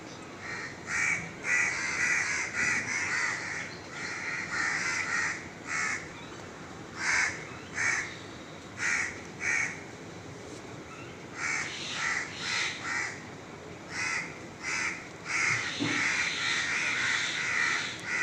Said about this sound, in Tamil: தொடர்ந்து இந்த காக்கா எல்லாம் வந்து கத்திக்கிட்டே இருக்குன்னா